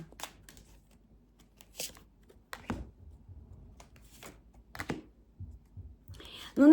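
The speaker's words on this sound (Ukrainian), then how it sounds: "Просто вилетіли дві карти, я їх запхала назад, перетасую." Soft riffles and flicks of tarot cards being shuffled in short bursts, quiet and close, with a few faint rustles between them.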